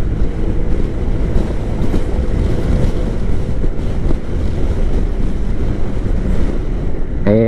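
Loud, constant wind roar from a microphone tucked inside the lining of a motorcycle helmet while riding, a dense rumbling buffet that never lets up.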